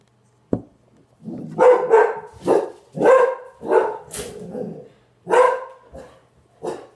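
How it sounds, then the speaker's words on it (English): A dog barks loudly and close by indoors, a burst of about eight sharp barks and yelps in an uneven rhythm, with no talking over it. "Excuse the dog."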